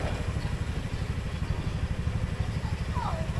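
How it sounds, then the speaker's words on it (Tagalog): Several motorcycles idling and rumbling nearby at a roadside gathering point in Rosario in the early morning, with a steady low engine chug throughout. "Yung nakikita nyo, maraming mga nakamotor."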